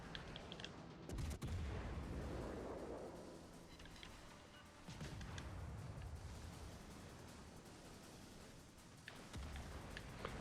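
Heavy battleship artillery fire in the naval combat game World of Warships Legends, with repeated booming salvos and a dense, rumbling barrage that runs nearly continuously and loud throughout.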